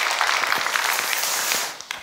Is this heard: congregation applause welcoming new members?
yes